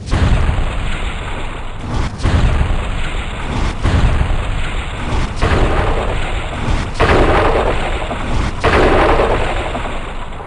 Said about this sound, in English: use your new fireball artifact against this wall trap